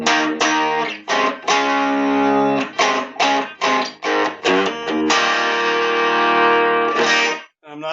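Dry electric guitar through a Vox MV50 amp head with no reverb or effects, a string of plucked notes and chords with clean, abrupt decays and short gaps, close and alone.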